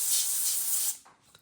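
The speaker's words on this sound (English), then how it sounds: "Olive oil spray." Olive oil spray hisses from a can onto naan bread for making pizza, one steady close burst just under a second long that then cuts off.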